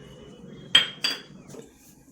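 A metal spoon clinks twice against a bowl or pan while ghee is added to savory shankarpali dough, two sharp close taps followed by a fainter third.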